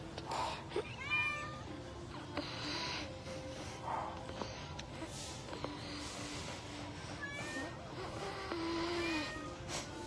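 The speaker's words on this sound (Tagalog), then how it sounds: "may nakilala akong pusa" A cat meows several times, short faint calls scattered through the clip over steady background noise, while a person talks softly.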